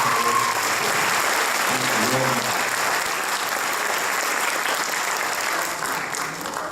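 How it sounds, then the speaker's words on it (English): A senior awards ceremony audience gives a round of applause, a broad, even wash of clapping from a large room that holds steady throughout, with faint voices mixed underneath. "Again, another round of applause."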